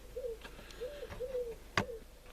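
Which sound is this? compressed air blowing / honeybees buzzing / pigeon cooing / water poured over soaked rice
pigeon cooing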